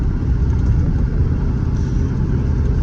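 A 1941 Ford rolls across a Walmart parking lot in Waynesboro, Mississippi, its engine and road noise forming a steady, loud, close rumble, with the tires crunching over gravel throughout.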